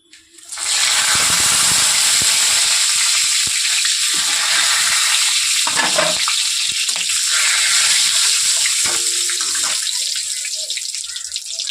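Whole cloves, cardamom, cumin and bay leaves hit hot oil, setting off a sudden loud hissing sizzle that stays strong and continuous, easing slightly toward the end.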